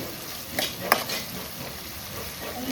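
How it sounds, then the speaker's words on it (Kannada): Food frying in a pan at home, a steady soft sizzle with a couple of brief scraping clicks from a utensil, fairly quiet and close. "ಒಂದೊಂಚೂರು ಎಡ್ಡೆ ಫ್ರೈ ಆವಾಡ"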